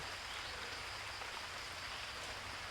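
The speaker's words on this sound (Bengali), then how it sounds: "বাইরে হালকা বৃষ্টি হচ্ছে" Light rain falls steadily, a soft, even patter and hiss with no voices.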